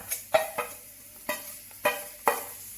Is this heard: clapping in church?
no